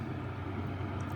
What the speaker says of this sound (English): when I power this off, it's going to blow for 8 seconds